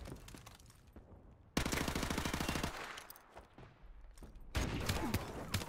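AK rifle fire rattles through a video game in long, rapid automatic bursts. The shots sound loud and close, broken by brief pauses between strings of gunfire.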